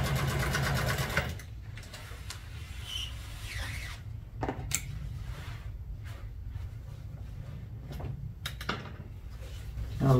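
Sewing machine stitching tuck and roll pleats in black car upholstery with white thread, a close rapid mechanical chatter that starts the clip, gives way to handling rubs and knocks, and returns briefly at the end.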